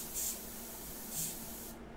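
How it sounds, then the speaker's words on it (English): An airbrush releases air with the needle pulled back, giving a steady soft hiss with two brief louder puffs, close and quiet. "just loosen the chucking nut and press down the air and pull back the needle."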